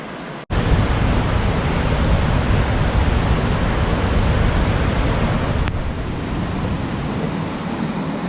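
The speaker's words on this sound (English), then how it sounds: "There's a wind coming off of the" Waterfalls rush in Kings Canyon on a misty trail, a loud, dense, steady roar mixed with gusting wind, broken by a brief drop at the start.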